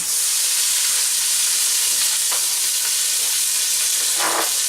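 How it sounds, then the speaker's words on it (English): Onion and pepper sizzle loudly in a hot pan, a constant bright hiss with brief crackling bursts and no voices. "You can tell from that sizzle that our pan is good and hot."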